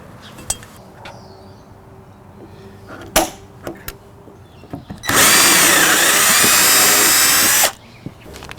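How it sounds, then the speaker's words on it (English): A power drill whirs steadily for about two and a half seconds, loud and close, driving a screw into an RV trailer, with quieter clicks and handling knocks before it. "So let's get a drill and put it in."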